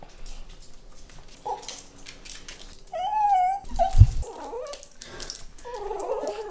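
A dog cries with a high, wavering whimper, then gives a short growling huff and further soft whines and heavy breathing, heard close up in a quiet room.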